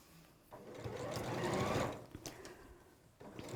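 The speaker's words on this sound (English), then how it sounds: "we're just stitching along the top" A sewing machine stitches along the top of a pleated bag at a 5/8-inch seam, running in one sustained burst with quieter mechanical ticks before and after, close but soft.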